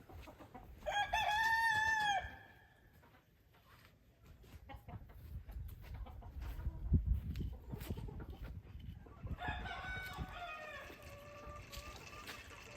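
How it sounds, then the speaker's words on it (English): A rooster crows loudly nearby twice, once at the start and again near the end, with hens clucking and low scraping chore noises in between on a backwoods homestead. "So this is chicken."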